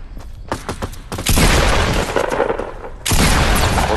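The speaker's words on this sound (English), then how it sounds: "Oh, he's shooting." Rapid gunfire bursts in Fortnite Battle Royale: a few sharp separate shots, then two long loud sustained volleys of close, booming fire with no talk over them.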